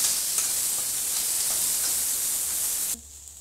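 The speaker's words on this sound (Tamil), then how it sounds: "இப்போ பார்த்தீங்கன்னா வெங்காயம் நல்லா வதங்கிடுச்சு." Onions sautéing in a pan for ragi adai give a steady, close sizzle and hiss that runs without a break for about three seconds, then stops abruptly.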